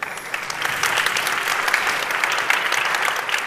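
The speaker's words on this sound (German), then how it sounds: "Ein Beifall für Sie." Audience applause at a re:publica 2019 conference talk, a dense, steady clapping from a crowd lasting several seconds, loud and close, with no speech over it.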